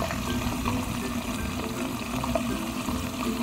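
A fully automatic front-load washing machine fills its drum with water and detergent soap, giving a steady, loud rushing and splashing that runs continuously.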